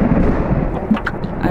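Thunder in the horror game The Mortuary Assistant rolls as a loud deep rumble that swells and lingers, with a few sharper crackling bursts near the end.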